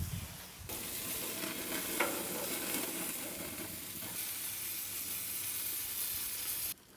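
Wisconsin-style bratwursts sizzle steadily on a tailgate grill, a constant close crackling hiss running the whole time with a few small pops, then cutting off abruptly near the end.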